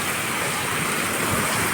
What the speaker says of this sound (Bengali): মারাত্মক বৃষ্টি হচ্ছে বাইরে